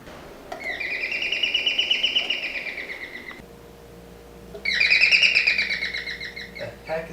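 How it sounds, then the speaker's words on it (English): An electronic chirping-bird doorbell in a home in Taiwan plays two long warbling tones separated by a brief pause, clear and fairly loud indoors. "Our doorbell is a chirping bird."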